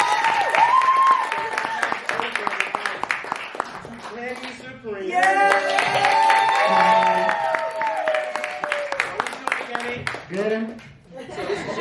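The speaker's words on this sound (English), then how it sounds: "please clap it up for" An audience claps and laughs during a cast and crew Q&A, scattered clapping and chuckles mixed with lively talk and voices that carry over the noise.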